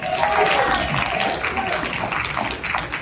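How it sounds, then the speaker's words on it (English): An audience breaks into steady, dense applause at a motivational talk, loud and close, holding throughout with no pause. "Give little Peter a round of applause."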